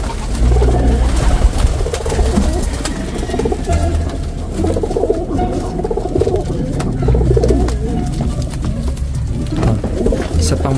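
Racing pigeons coo in a low, continuous murmur of overlapping calls close by, with a person talking intermittently over the birds.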